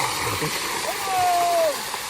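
Cold water gushes from a village tube-well in summer in Pakistan: a steady, fairly close rushing wash that runs unbroken throughout, with a brief whistled tone rising above it midway.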